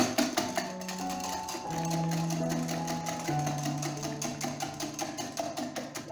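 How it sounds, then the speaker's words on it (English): A whisk beats egg custard mixture in a bowl for bread and butter pudding, a quick even rattling that is fairly quiet and close, with faint tones underneath. "And just whisk all that together."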